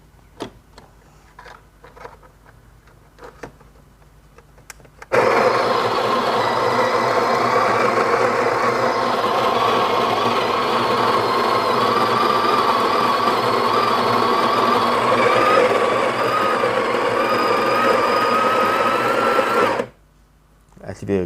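A Breville espresso machine's built-in burr grinder, set to inner burr 3 and external 7, runs with a loud, steady, high whir for about fifteen seconds before stopping abruptly, after a quieter stretch with faint clicks.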